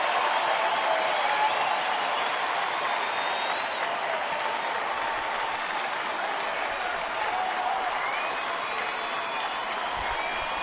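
A baseball stadium crowd of about 33,350 fans applauds and cheers steadily at a Twins at Tigers game in Detroit, a dense, even roar of clapping that holds at a constant level throughout.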